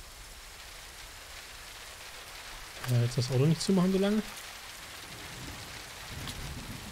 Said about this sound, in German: Oh, jetzt regnet's auch.